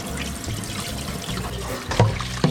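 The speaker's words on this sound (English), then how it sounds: "gonna rinse these pike nuggets" Pike nuggets rinsed under running water from a faucet, a steady close trickle and splash of water with a few louder splashes as the pieces are moved.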